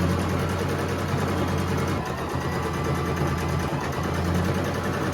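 A sewing machine running a straight stitch down a folded fabric strap, with a close, continuous mechanical whir and rapid needle chatter that briefly stutters partway through.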